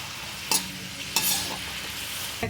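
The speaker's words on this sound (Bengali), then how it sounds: "পেঁয়াজটাকে ভেজে নিচ্ছি।" Onion frying in hot oil gives off a steady soft sizzle, with a couple of sharp clinks from a spoon stirring the pan.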